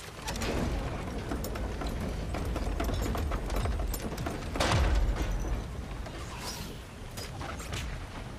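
In God of War Ragnarök, a machine drops ore into water, heard as a dense, loud churn of mechanical rumbling with a heavier splash or thud near the middle, continuous throughout with no speech.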